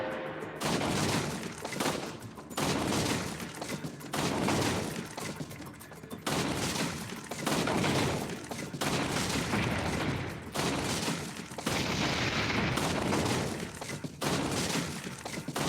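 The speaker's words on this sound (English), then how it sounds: "I've missed 2 shots, but otherwise I'm hitting headshots left, right, and center." Loud, close bursts of gunfire at a VR shooting range in Resident Evil 4 VR come in repeated volleys a couple of seconds long, separated by short gaps.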